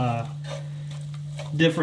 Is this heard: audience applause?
no